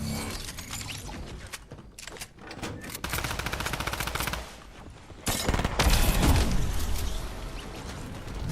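A rapid-fire gun in Fortnite Reload rattles off quick, evenly spaced shots in sustained bursts, loud and close, with short pauses between volleys and no talk.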